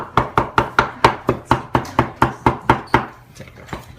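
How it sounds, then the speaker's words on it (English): Smoked Texas-style brisket is chopped with a knife on a board: a rapid, even series of about a dozen sharp thwacks, close and crisp, slowing and softening at the end. "We're just gonna finish chopping"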